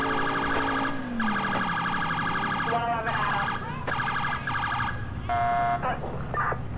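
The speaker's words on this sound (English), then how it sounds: "I just love using the priority tone like this" Police siren priority tone from an NYPD GMC Savana van in the GTA IV LCPDFR mod, blasting in repeated short bursts and wails with brief gaps, loud and close over steady engine and traffic noise.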